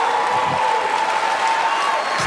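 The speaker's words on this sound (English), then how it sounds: "You can stop clapping." A live comedy stand-up crowd applauds and cheers continuously, a broad wash of clapping from a large audience heard at a steady level.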